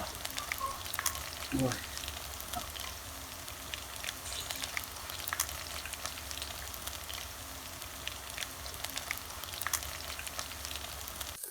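Steady crackling sizzle of food frying in a pan, continuous and fairly close, with a brief clatter near the start and no talking, beside a natural canal.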